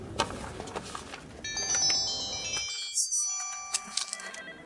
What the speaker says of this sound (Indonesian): Kamu pakai nada dering yang sama denganku?